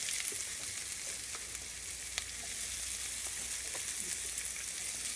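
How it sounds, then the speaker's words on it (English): Chopped onions sizzle in hot oil with toasted spices for an Indian-style beans and rice dish, a steady close crackling hiss throughout with a few sharp pops and no talking. "it's right about the time when I'm going to add my onions"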